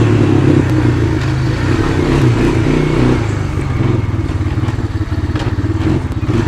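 A Honda ATV engine, a Foreman 400 or FourTrax 300 quad, revs hard near its upper RPM limit on a rough road, loud and close with rattling clatter under the steady roar.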